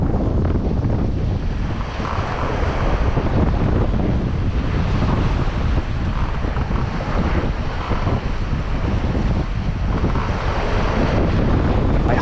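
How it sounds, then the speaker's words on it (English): Strong 22 to 26 knot wind roars across the microphone aboard a 21 ft home-built sailboat crossing the Atlantic solo, with 3 m seas surging and breaking steadily underneath, loud and continuous without talk. "it's blowing somewhere between 22 and 26 knots. The seas are about 3 meters."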